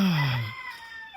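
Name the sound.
rooster crowing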